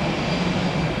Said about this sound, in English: It's the Airbus, the minibus.